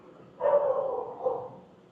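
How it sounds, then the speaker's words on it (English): Scruffy old dog outdoors giving a couple of muffled, drawn-out barks or yowls, moderately loud and set against low ambient noise, no speech. "There's a dog over here."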